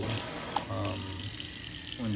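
Water running steadily from a faucet into a newly installed Kohler sink, a constant close wash of flowing and splashing without pause.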